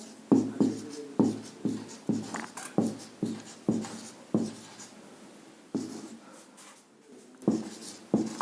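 A pen scratching out notes on paper in quick, rhythmic strokes, close and clear, with short pauses between bursts of writing and no talking.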